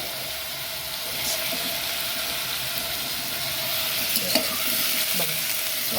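Vegetable tempering (phodni) in a pan: hot oil spatters in a steady, close hiss with small pops and occasional stirring clicks, alone with no talk.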